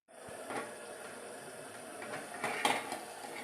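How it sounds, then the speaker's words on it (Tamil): Turkey berries sautéing in oil in a pan over low heat, a soft continuous sizzle with occasional clinks of a utensil against the pan, close and moderately quiet. "பாருங்கள், நல்லா எண்ணெயிலே நல்லா அந்த சுண்டைக்காய் வதங்கிட்டு இருக்குது"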